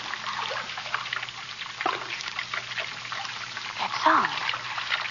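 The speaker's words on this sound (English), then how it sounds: "That sound. Running water." Running water trickles and dribbles steadily as a sound effect in an old radio drama, a soft continuous flow under a man's murmured speech, with faint thumps and a distant bark.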